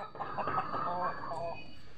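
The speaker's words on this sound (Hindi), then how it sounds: "और हमारी मुर्गी आ गई है।" Buff hens cluck close by in a farmyard, a brief burst of throaty, wavering calls that fades off within a couple of seconds.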